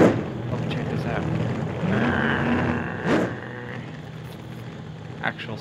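Engine of a simulated truck in the Sketchy Physics SketchUp game, a low droning hum with rising whine and a few sharp bursts, heard under someone talking over it.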